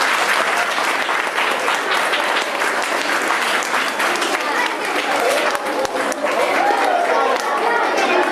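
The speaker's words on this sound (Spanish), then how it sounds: "Entonces le damos un aplauso." An audience applauds in welcome for Lola Rodríguez, a former cigar worker at the A Coruña tobacco factory, the dense, loud clapping holding steady throughout with a faint murmur of voices beneath.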